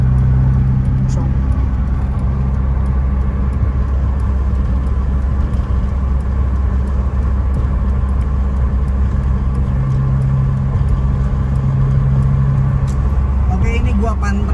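A 1991 BMW E30 with an M40 engine holds fifth gear on a toll road, producing a continuous, even cabin drone of engine and road rumble for the whole stretch.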